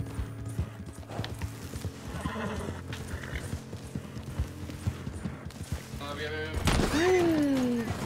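Horse in a video game clip-clopping along and letting out a loud, descending whinny near the end, over busy game background noise.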